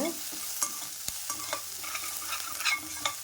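Asafoetida being sautéed in a pan for a raw tamarind pachadi, heard as a close, steady frying hiss broken by repeated taps and scrapes of a spoon stirring.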